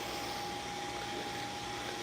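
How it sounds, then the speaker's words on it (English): A vacuum cleaner runs in a puppy kennel, a steady continuous drone with a faint whine that holds unchanged, alone and without talk. "we got the vacuum cleaner cranked up."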